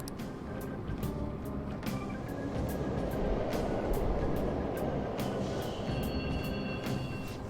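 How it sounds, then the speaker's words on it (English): Subway trains rumble steadily through an underground station in the video game Persona 5 Royal, a continuous loud rolling roar with repeated clicks and rail clatter and a faint tonal whine near the end. "trains are totally running. Of course they are. We're in the subway, you know."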